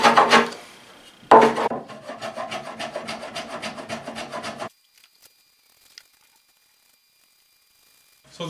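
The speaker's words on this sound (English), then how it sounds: "I went over the whole thing with 150 grit" Hand sanding a wooden Shaker-style writing desk with 150 grit sandpaper after a first finish coat: close, rhythmic back-and-forth rasping strokes for several seconds, then silence with a faint knock or two.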